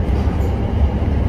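Steady low rumble of a moving passenger train in Germany, heard from inside a crowded carriage, with continuous wheel and rail noise and no clear voices.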